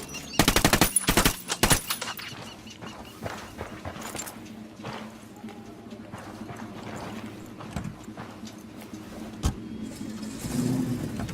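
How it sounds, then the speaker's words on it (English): Rapid bursts of automatic gunfire ring out in a Ghost Recon Wildlands firefight, loud and close at first, followed by scattered sharp single shots and movement noise, with little talking. "Opening fire."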